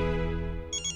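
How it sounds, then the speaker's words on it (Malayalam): Phone ringing: a close, loud electronic ringtone with steady harmonic tones, then a brief pulsing higher chime near the end, with no talk over it. "ഒരു മിനിറ്റ്, ഈ ഫോൺ ഒന്ന് എടുത്തോട്ടെ."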